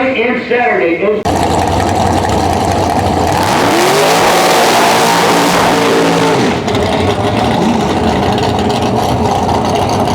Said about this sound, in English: you can really hear those cars still